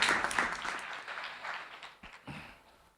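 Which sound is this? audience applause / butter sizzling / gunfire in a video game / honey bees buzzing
audience applause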